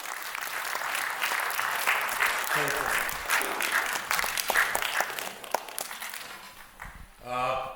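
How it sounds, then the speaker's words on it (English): An audience at a film event claps to welcome local MLA Yaz to speak. The applause is dense and moderately loud, a voice talks over it briefly, and it fades toward the end. "please welcome him with a big round of applause"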